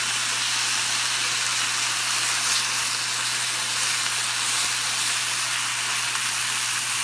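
Steak sears in a hot pan for a low-calorie coffee-rubbed dish, giving a steady, loud sizzling hiss with a low hum underneath and no talking.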